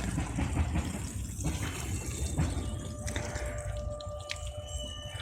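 Water trickling and splashing from a pig-shaped watering can onto garden plants in a dim plot, a soft continuous pour with small drips, quiet and close, no talking.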